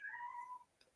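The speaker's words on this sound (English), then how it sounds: "Is that in my house? Is it a cat?" A house cat meows indoors in one clear, drawn-out call lasting over half a second, followed by a brief faint sound and quiet room tone.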